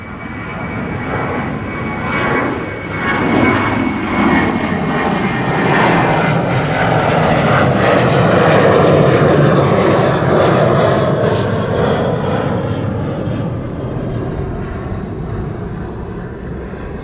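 A Finnair airliner departing Schiphol airport roars loudly and steadily, its engine noise swelling toward the middle and then slowly easing as it climbs away.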